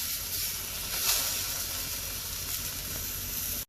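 Chopped tomatoes sizzle and hiss in hot oil with fried onions while cooking for a mutton curry, a steady close frying sound with a brief louder swell.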